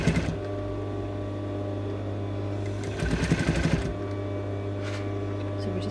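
A sewing machine stitches binding onto a dress neckline, running in a steady close whirring hum with a faster, busier burst midway through. No one speaks.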